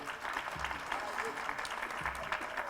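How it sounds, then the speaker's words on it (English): Audience applause fills a hotel ballroom at an evening Afro-Asian partnership event in Manila: dense, steady clapping sustained throughout at an even level, with a voice faintly underneath. "A round of applause, please"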